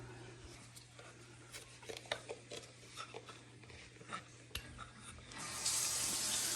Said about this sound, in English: just turned on the sink